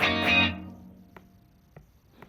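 An electric guitar through a room reverb effect in Positive Grid BIAS FX: a distorted chord rings out and decays, followed by a few quiet, sparse plucked notes with a short ambient tail.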